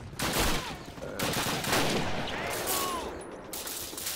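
Call of Duty battle gunfire at Stalingrad: rapid rifle and machine-gun bursts crackle in quick succession, fairly loud amid ongoing battlefield noise, with a little talk over it.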